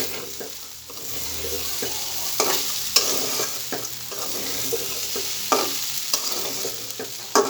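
Rice and chickpeas being stirred in a pan with oil, a steady sizzle punctuated by repeated scraping strokes of a utensil at irregular intervals, close and fairly loud.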